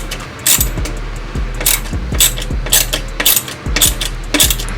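Ratchet driving a bolt into a billet radiator bracket in a Toyota Supra engine bay, repeated bursts of quick metallic clicking with short pauses, close and fairly loud.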